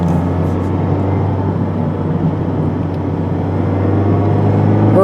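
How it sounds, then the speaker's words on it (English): A 2025 Mazda MX-5 Miata's naturally aspirated engine hums steadily while driving, a constant low drone with road and cabin noise and no talk. "this isn't the most powerful engine you can get in a sports car"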